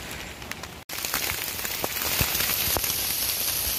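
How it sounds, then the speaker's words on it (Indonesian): Heavy rain pouring on a mountain trail, a dense, loud wash of drops hitting the surroundings close by, with scattered louder splats and a brief dropout early on, no voices. "Hujannya semakin deras."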